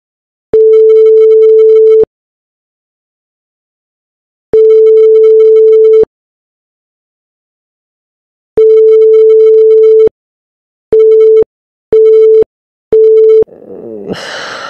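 A phone call's electronic tone sounds when the called handset is switched off, a steady pure beep in long pulses then quicker shorter ones, loud and alone, before a brief different sound cuts in at the end.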